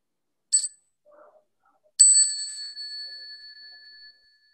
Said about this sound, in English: I'm going to invite a bell just for us to breathe